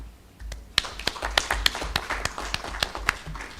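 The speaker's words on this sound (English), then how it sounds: "So as you clap your hands, just clap for yourself." An audience at a counselling association annual general meeting claps, with sparse, separate hand claps sounding at an uneven pace rather than as a dense ovation, fairly close and moderately loud.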